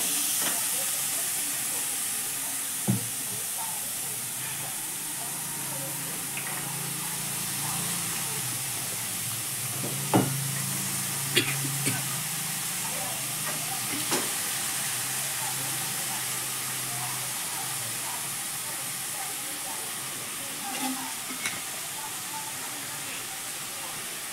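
Green beans sizzling as they go into roasted green masala in a pan for a Marathi-style vegetable dish, a steady hissing fry with a few scattered clicks and clinks of utensils, moderately loud throughout with faint low talk.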